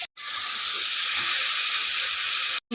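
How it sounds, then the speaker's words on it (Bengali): Mourala fish sautéing in a hot pan with tomato gives a loud, steady sizzle and hiss that holds constant throughout, with sharp cut-offs at both ends. "এখন এটার সাথে আমি কষিয়ে নেব।"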